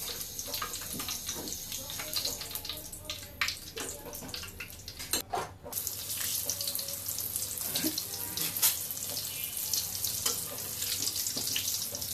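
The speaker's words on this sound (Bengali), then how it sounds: "আলুর চপ ভেজে নিচ্ছি" Potato chops (aloo chop) deep-fry in hot oil in a home kitchen, giving a continuous bubbling sizzle with scattered crackles and a brief dip midway before the frying roars on steadily.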